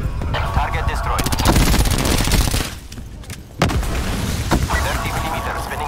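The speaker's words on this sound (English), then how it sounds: "30 millimeters spinning up. Going hot." A 30mm gunship cannon in Call of Duty Black Ops 4 fires rapid, loud bursts of rattling shots. There is a brief pause, then more heavy booming fire, with radio-style voices speaking over it.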